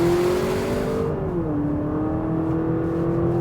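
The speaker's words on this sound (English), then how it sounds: "little bit of acceleration here." A Honda Accord Hybrid with a CVT accelerates from inside the cabin, its motor and engine rising in a smooth, steady whine with one simulated shift dip, loud and continuous.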